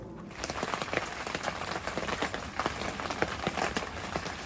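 Steady rain drums on a camper roof overhead in a forest campsite, dense patter with sharper drops popping through, continuous and close.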